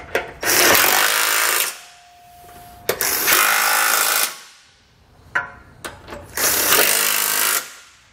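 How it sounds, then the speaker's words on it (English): Cordless impact driver with a 15 mm socket snugging down hitch nuts on a 2019 Volvo, three long loud close bursts separated by pauses with a few brief clicks and knocks. "we can take that same 15 millimeter socket and we're going to tighten up all the nuts till they're nice"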